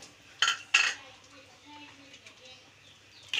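A pot of wheat khichda being stirred, two sharp metallic clinks of a spoon against the pot followed by soft scraping and a faint bird chirp, close and otherwise quiet.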